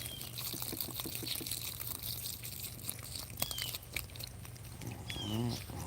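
Water is poured over a suburban homestead garden bed in a faint, soft splashing trickle with scattered small crackles, and a voice speaks briefly near the end.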